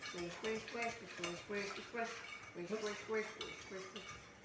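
A whisk rattling and clinking against a pan as cream puff batter is beaten, quick rhythmic metallic strokes repeating steadily up close.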